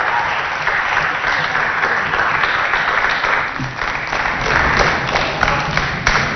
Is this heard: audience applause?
yes